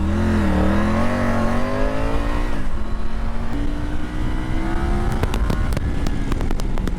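A 2020 Triumph Tiger 900 triple motorcycle engine revs and accelerates close up, its pitch climbing through the gears in a loud, continuous drone with brief shifts.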